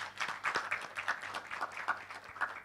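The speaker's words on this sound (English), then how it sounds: "I will still insist on another round of applause" Sparse applause from a small audience at a sexual and reproductive health talk in Uganda, with scattered claps at an uneven pace, moderately distant and fairly quiet.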